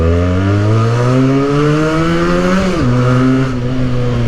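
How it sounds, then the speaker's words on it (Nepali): A modified Benelli motorcycle revs loudly and close, its engine note climbing steadily, then dropping briefly before holding steady again. No clear exhaust pops stand out. "प्याट प्याट प्याट पटेका पड्किन्छ नि यो बाइक"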